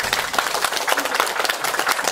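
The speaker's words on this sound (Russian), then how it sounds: "Аплодисменты!" A hall audience at a literary almanac presentation bursts into steady applause, dense rhythmic clapping at a fairly loud, even level for the whole stretch, with no voices over it.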